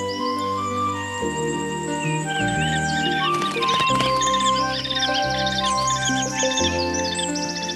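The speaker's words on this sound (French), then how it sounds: "Le faucon cresserelle, qui niche fréquemment sur les façades rocheuses des contreforts pyrénéens" Common kestrel chicks calling in a Pyrenees forest, thin high chirps and repeated tweeting notes over a dense layer of sustained tones, busiest in the second half, with no speech.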